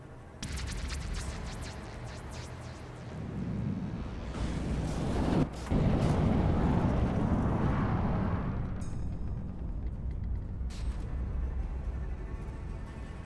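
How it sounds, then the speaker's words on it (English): Heavy explosions and cannon fire in the naval combat game From the Depths, a raider fleet shelling a village: a dense, rumbling barrage of blasts and booms rolling on continuously with sharp bursts standing out. "Big explosions going on straight away."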